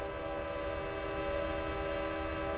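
A train sounds its horn in one long, steady, sustained blast with a droning tone over rail rumble, heard alone without talk.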